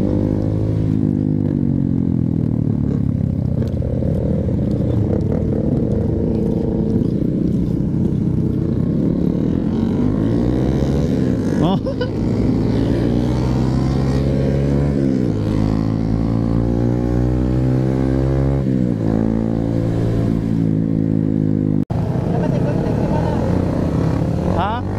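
Several motorcycle engines, including Honda CRF150s, whine and roar as they speed around a banked track, pitches sweeping up and down, with people talking over the noise.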